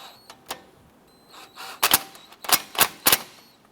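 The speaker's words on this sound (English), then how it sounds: "the bolts. Let's go ahead and tighten those down." Brake caliper bolts on a 2007-2012 Nissan Versa being tightened with a ratchet, giving a series of sharp metallic clicks and bursts, several close together near the end, loud and close with no talking.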